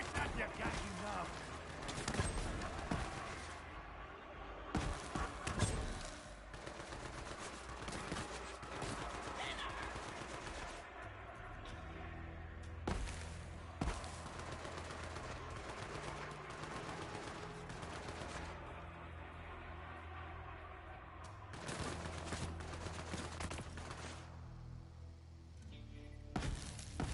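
Repeated gunshots from the Bounty of Blood video game, sharp bursts scattered through a busy game soundtrack, with someone talking over the action.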